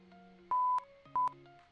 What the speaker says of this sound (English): Don't mind the beeping, I don't know when that happens.